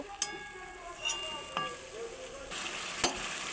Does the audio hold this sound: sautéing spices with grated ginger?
yes